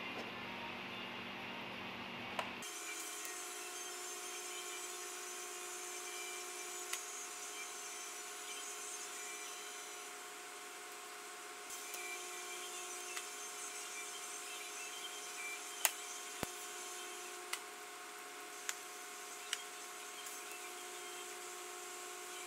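DC TIG welding on a stainless steel turbo manifold for a Subaru-powered 911: a steady, faint electrical hiss and hum after the arc starts, with occasional small clicks, no talk.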